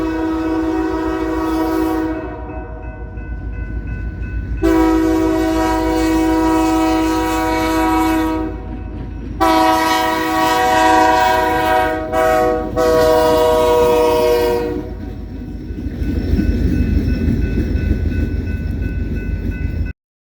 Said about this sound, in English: catch the Jasper local, BNSF LHLA 841, being led by none other than BNSF 3019.